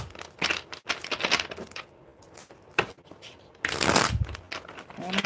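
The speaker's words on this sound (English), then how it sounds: "One more shuffle." Tarot cards shuffled by hand in bursts of crisp riffling and flicking, close and fairly loud, with a louder riffle near the end and brief pauses between.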